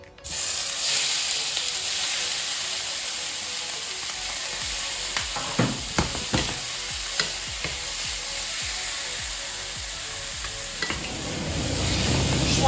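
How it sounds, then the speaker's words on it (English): Deer backstrap sears in a pan over half heat with a loud, continuous sizzle and spitting fry. Several soft knocks of the meat being moved or stirred break through midway, and the sizzle swells again at the end. "At this point, we're just searing it"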